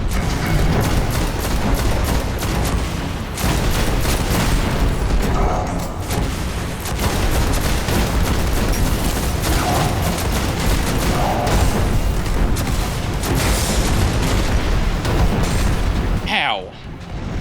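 Gunfire and explosions in Destiny roar almost continuously, with dense rapid shots and heavy booming blasts stacked together, loud and unbroken across the whole stretch, and voices talking underneath.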